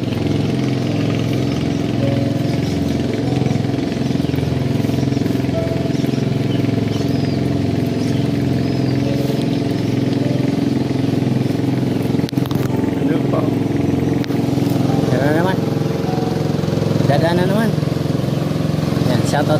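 A motorboat engine runs steadily on the water near a farm, a continuous mid-pitched drone lasting throughout, with a voice talking over it.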